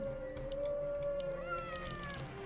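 A cat unit in the strategy game Legion TD 2 gives a clear, sustained meow that bends in pitch, over a steady background of game music and effects.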